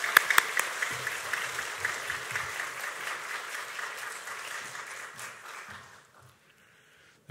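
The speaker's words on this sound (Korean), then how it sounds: "목사님을 환영하는 마음 담아 뜨거운 박수로" A church congregation applauds to welcome a visiting pastor, a dense burst of warm clapping from a full room that holds steady for several seconds, then fades out and stops.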